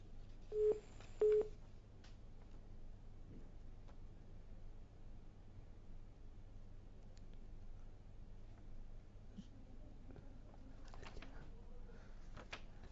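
A telephone line during a call that has dropped, giving two short, loud electronic beeps near the start and then a long stretch of quiet line hiss and faint background noise.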